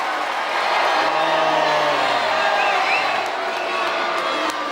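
Hostile studio audience at a 1995 Gladiators semi-final jeers and shouts, a broad loud crowd roar swelling and holding throughout with scattered whoops.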